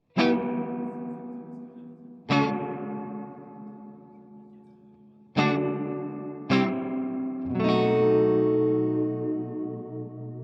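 Five sharp, dry electric guitar chords struck with pauses between them, each ringing out and fading in a long reverberant tail.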